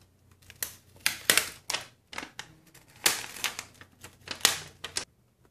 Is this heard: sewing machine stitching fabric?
no